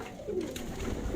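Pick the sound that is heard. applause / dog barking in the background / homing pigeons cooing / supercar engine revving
homing pigeons cooing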